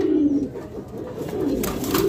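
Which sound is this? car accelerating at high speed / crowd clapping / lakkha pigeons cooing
lakkha pigeons cooing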